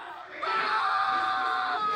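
A loud shrill scream from a video, heard alone over about two seconds, rising sharply and holding steady at high intensity.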